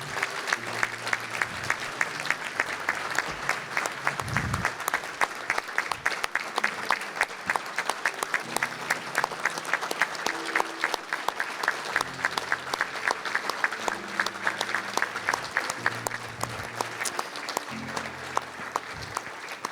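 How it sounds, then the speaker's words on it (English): A convention audience of a Louisiana police jury association gives a round of applause. Dense, sustained clapping carries steadily for about twenty seconds at a fairly loud, even level, with no talk over it. "Miss Billy Jo, why don't you please stand so we can give you a round of applause."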